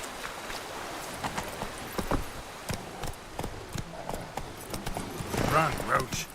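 The horse Roach from The Witcher 3 gallops in rhythmic, moderately loud clip-clop hoofbeats, with a voice talking over the steady run.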